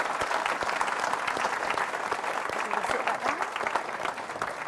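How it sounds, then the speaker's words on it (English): An audience at a London event claps in steady applause, a dense even wash of hands continuing throughout without pause. "we'll have a massive round of applause for Hask and for Rachael"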